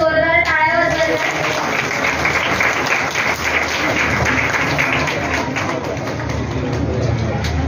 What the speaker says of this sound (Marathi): सगळ्यांनी जोरदार टाळ्या वाजवल्या